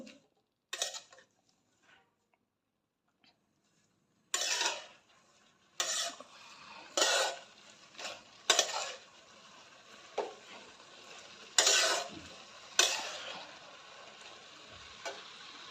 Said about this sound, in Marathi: कांद्याची पात मुगाची डाळ सर्व मिक्स करून घेते